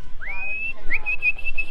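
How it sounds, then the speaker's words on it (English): Human whistle used as a food call, two rising notes each held briefly, clear and close. "There is a food whistle when I've cooked dinner."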